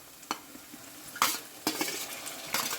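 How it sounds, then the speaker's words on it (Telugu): Fenugreek leaves and coriander fry with spices and onion in hot oil, a soft sizzle broken by a few sharp scrapes and clinks of a spatula against the pan, close by and with no talking. "కొత్తిమీర, మెంతి కూడా వేసి మెంతి ఫ్రై అయ్యేదాకా వెయిట్ చేయాలి."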